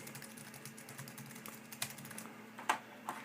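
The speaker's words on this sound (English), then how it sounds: "Still typing." Someone types on a G4 computer's keyboard: a quiet, irregular run of soft key clicks with a few sharper, louder taps near the end, and no talking.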